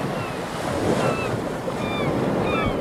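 Ocean surf rolls continuously against a shoreline under steady wind, a broad even wash with faint bird-like calls high above; no one speaks.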